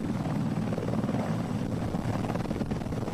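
Helicopters landing in southern Israel, a dense, steady rotor roar with rapid thudding blade beats, loud and close, continuous throughout with no voices.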